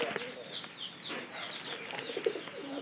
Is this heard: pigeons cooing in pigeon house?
yes